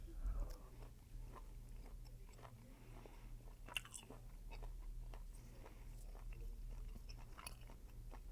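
Someone chews a cheap, tough steak marinated with MSG, giving soft wet bites and crunches up close over a steady low hum, with no talking.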